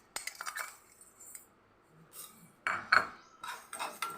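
Mustard and fenugreek seeds stirred while dry-roasting in a pan for lemon pickle, giving scattered clinks and scraping rattles of utensil on metal, in short bursts with quiet gaps.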